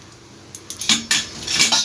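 Sesame paste being mixed with salt and a little sugar in a bowl, with spoon clinks and scrapes that grow busier and louder over a couple of seconds; no voices.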